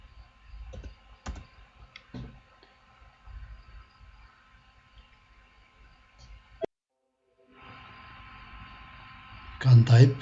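Light, scattered computer keyboard typing and clicks at a desk, soft and intermittent under a quiet room hum, with a brief silence and then louder handling noise at the end.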